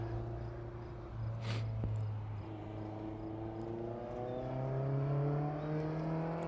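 An autocross car on a sighting lap around a course at Golden Sands Speedway, its engine humming steadily and rising and falling in pitch as it accelerates, heard at a moderate distance with a brief sharp transient in the middle.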